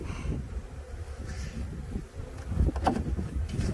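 Honeybees hum and buzz around an outdoor nuc hive transfer on a farm, a low, continuous drone with a few louder passes as individual bees fly close.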